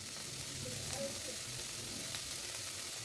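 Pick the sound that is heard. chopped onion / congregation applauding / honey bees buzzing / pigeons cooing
chopped onion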